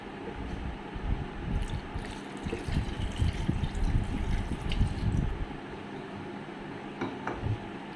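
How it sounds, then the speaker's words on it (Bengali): Liquid milk poured into chopped mango for a smoothie, a gurgling, splashing pour that swells in the middle and then tapers to quieter trickles. "আমি এরপরে তরল দুধগুলো দিয়ে দিচ্ছি"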